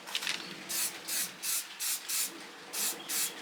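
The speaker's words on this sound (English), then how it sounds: "But I'm spraying away from myself. Small, even strokes." Stain protector spray is applied onto shoes in a series of short, even bursts, about eight quiet, close hisses in a steady rhythm with brief pauses between them.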